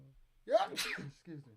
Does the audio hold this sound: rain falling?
no